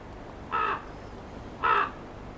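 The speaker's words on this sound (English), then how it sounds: "A raven on its way to roost circles overhead, its flight feathers magnificently spread like the fingers of two outstretched hands." Raven over a river bank at evening, giving two clear, harsh caws about a second apart against a quiet background, moderately near.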